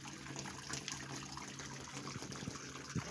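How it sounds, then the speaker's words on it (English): Fresh water runs steadily into a catfish pond tank, a continuous gushing, splashing flow heard close and fairly quiet, with a few brief louder splashes and no speech. "we'll start putting in fresh water"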